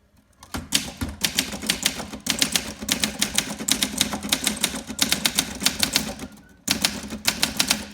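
Brisk clacking of a 1958 Olympia SM3 manual typewriter, rapid keystrokes in bursts with short pauses between, close and crisp, no voices.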